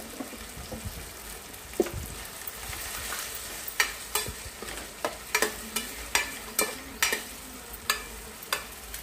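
Vegetables fry in a pan with a steady sizzle. A spoon stirs through them, giving sharp, regular scrapes and taps every half second or so, close and fairly loud.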